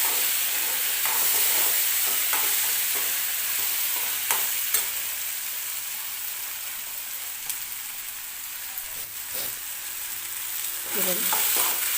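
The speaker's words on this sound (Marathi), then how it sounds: "खोबऱ्याचं कूट आणि लसूण एकत्र करून कूट बनवून ठेवते ते टाकते दोन चमचे छान परतून घेऊया" Ground coconut and garlic sautéed in a pan for an onion-tomato chutney, a loud, steady sizzle with repeated scraping stirs throughout, up close.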